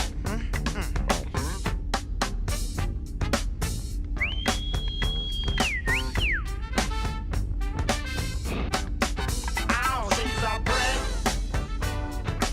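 A clear, sustained whistled melody rides over a loud, steady song with a driving beat. The whistle holds long notes, then bends and dips before the music carries on.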